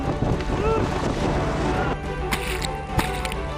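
Boat speeding over rough sea waves off Lombok, a steady roar of engine, wind and splashing water with occasional thumps as the hull hits swells, loud and continuous.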